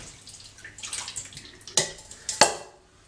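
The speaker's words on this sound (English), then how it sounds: "And I'm putting the stop bath straight in." Stop bath liquid being poured into a film developing tank at home for black and white film, giving a soft trickle of liquid followed by two sharp clinks close by, with no talk.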